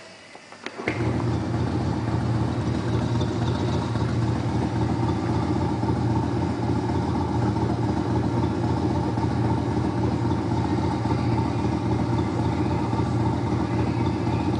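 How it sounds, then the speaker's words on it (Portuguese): A motorcycle engine starts and settles into a steady, loud rumbling idle that continues unchanged, close up, with no voices. "Esse é o meu motor."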